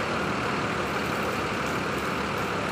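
A Mercedes-Benz OF1623 bus arrives with its engine running, a loud steady diesel rumble and broad roar filling the whole stretch without pause.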